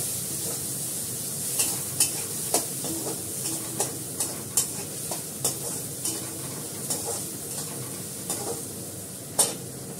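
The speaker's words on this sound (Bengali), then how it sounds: "এখানে পেঁয়াজ আছে, রসুন আছে, কাঁচা লঙ্কা আছে। এটাকে ফ্রাই করে দিই ভালো করে।" Onion, garlic and green chili fry in a pan with a steady close sizzle, punctuated by regular clinks and scrapes of a spoon stirring every second or so; no voices.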